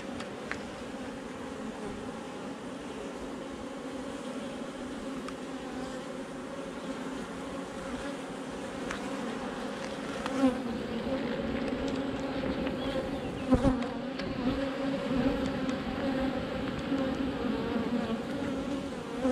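Honeybees buzzing during hive work on swarm cells, a dense steady drone from many insects close by, faint but continuous, with occasional brief knocks.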